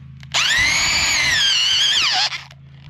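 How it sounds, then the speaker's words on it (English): A power drill boring a hole in the ground for a flagpole whines steadily at high speed for about two seconds, then spins down and stops. "it'll drill a hole through this"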